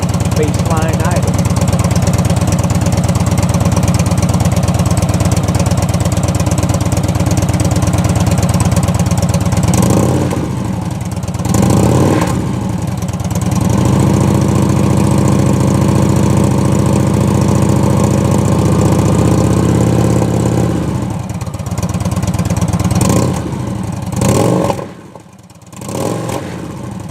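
Loud, close idle of a Victory Vision motorcycle with D&D exhaust mufflers, a deep rumbling beat with a few brief revs and dips, and a sharp drop near the end.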